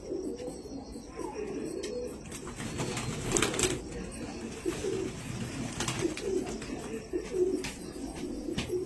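Pigeons coo in soft, repeated rounds under a steady flock murmur, with occasional flutters and brief chirps close by in a loft.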